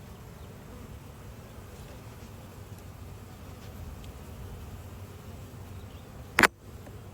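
Honey bees buzzing in a low, steady drone around an open hive during an inspection, close and continuous, with a sharp brief knock near the end.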